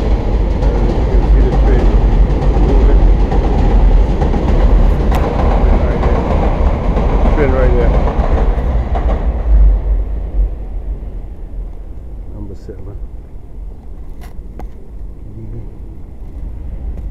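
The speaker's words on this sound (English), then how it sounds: "there's a number 7 train track ahead." A number 7 subway train rumbles past on an elevated track in Queens, a loud sustained roar with clattering wheels that fades away after several seconds, leaving quieter street ambience.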